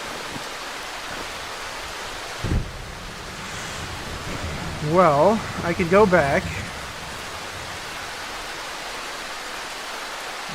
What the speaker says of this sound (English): This rain definitely did not help, like, in the slightest.